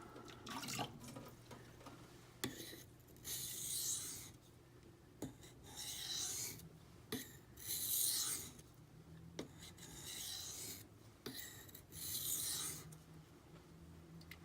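A knife is sharpened on an Imanishi 400 grit whetstone to remove the burr, making wet, rasping strokes in a steady back-and-forth rhythm of short scrapes with brief pauses, close and fairly quiet.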